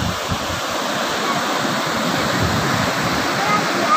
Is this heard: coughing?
no